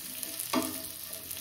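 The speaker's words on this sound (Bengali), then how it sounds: "আর দেখো পেঁয়াজ আর ক্যাপসিকামটা ভেজে নিয়েছি।" Sliced onion and capsicum frying in a pan give a brief, close sizzle, with one sharp scrape of stirring midway.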